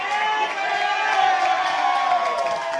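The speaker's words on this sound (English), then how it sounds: "The Cardiff crowd next to us go off" Crowd at an Australian rules football match, Cardiff Hawks against Maitland, erupting into loud sustained cheering and shouting after a goal, a dense roar of voices close by.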